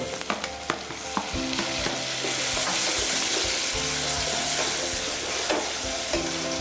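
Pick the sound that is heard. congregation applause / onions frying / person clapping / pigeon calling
onions frying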